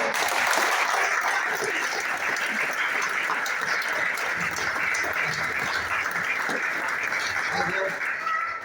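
Audience at a business training program in Khopoli applauds loudly and steadily for nearly nine seconds, a dense, even wash of clapping that holds throughout before tapering slightly at the end.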